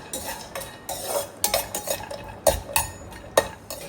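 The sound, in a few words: cashews and raisins frying in ghee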